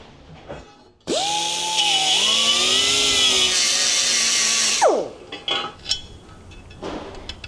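A cheap angle grinder, likely a Harbor Freight unit, grinds a motorcycle fairing on an Indian Springfield, a loud continuous high whine lasting several seconds that winds down abruptly, followed by scattered clinks and faint handling noises.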